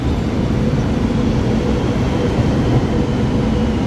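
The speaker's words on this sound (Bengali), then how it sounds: "এত জোরে বুলেট ট্রেন" Bullet train on the Shenzhen–Guangzhou route rushes past, a loud, continuous roar with dense low rumble and broadband wind noise, steady and close throughout.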